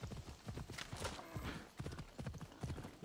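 Horse hooves clip-clop in a quick galloping rhythm during a ride in Assassin's Creed Odyssey, steady and fairly close, with brief game noises around them.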